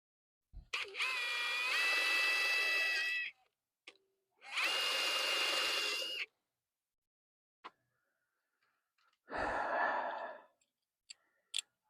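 A power tool drives screws into the grill bracket of a 1969 four-door car with a 454 engine. It whirs in three loud, whining bursts of about two to three seconds each, with short pauses and a few faint knocks between them.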